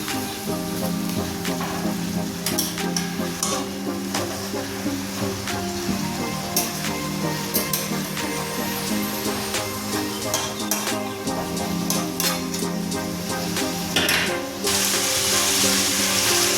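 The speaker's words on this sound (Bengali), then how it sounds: "মশলার মধ্যে মাছের মাথাগুলো দিয়ে দিলাম মশলাটা দিয়ে কষাতে থাকবো যতক্ষণ না মশলা দিয়ে তেল বেরোই" Rohu fish heads sizzle and crackle steadily in spice paste in a Bengali kitchen pan, a continuous close frying hiss with occasional stirring scrapes, no talking.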